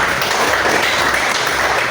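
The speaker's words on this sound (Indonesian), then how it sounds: "kita beri tepuk tangan dulu." An audience at a university lecture claps together in a brief, loud, continuous round of applause lasting a couple of seconds.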